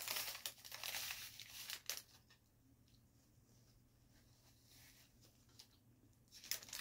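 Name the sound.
donut bag crinkling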